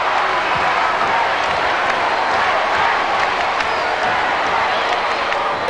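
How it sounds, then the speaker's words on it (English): A big basketball crowd at Melbourne Park roars during an NBL game, a dense sustained wall of cheering, clapping and whooping that stays loud and steady throughout, with no clear speech over it. "Listen to this crowd at Melbourne Park."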